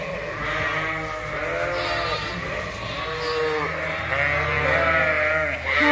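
Lambs and sheep on a farm bleat repeatedly and loudly in an overlapping chorus, with a low steady rumble underneath. No voices are heard.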